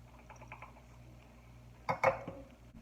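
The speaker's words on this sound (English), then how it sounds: "I'm just going to mix that up with a spoon" A spoon clinks and scrapes against a bowl while sugar and cinnamon are stirred together, a short burst of clatter after a quiet stretch, close and moderately loud.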